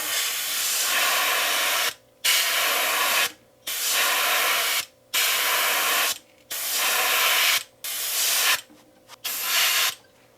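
A can of Molotow liquid chrome paint sprays onto the belly of a PVC minnow lure in six or seven loud, close hissing bursts with short gaps, the rhythm uneven and the later bursts briefer.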